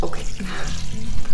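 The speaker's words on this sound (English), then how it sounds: "You're gonna pour this on top of the noodles gently, little bit at a time." Liquid poured gently over noodles in a kitchen, a close, loud splashing trickle that runs continuously with slight wavering.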